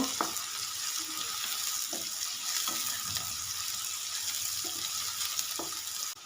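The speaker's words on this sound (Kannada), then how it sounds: "ಈರುಳ್ಳಿನ ಚೆನ್ನಾಗಿ ಫ್ರೈ ಮಾಡ್ಕೋಬೇಕು." Onions fry in a pan with a steady, close hiss of sizzling oil, broken every second or so by soft scrapes and knocks of stirring; no one speaks.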